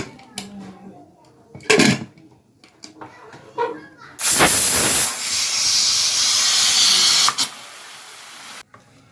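A pressure cooker boiling snails for a Manipuri snail curry lets off a loud, sustained hissing steam whistle that lasts several seconds, after quieter kitchen clatter and brief talk.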